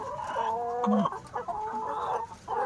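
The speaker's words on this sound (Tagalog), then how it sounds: "Meet our mommy layer, Butne" A D109 layer hen clucks and murmurs close by in a poultry house, giving a run of short, bright, varied clucks with a few pauses.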